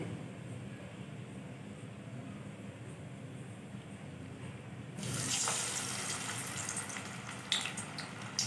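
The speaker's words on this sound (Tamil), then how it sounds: "இப்போ எண்ணெயில் போட்டு பொரித்து எடுத்துக்கலாம்" Beetroot kola urundai balls drop into hot oil for deep-frying. A low, quiet background gives way midway to a sudden, steady bright sizzle with a few sharp crackles and pops. No talking.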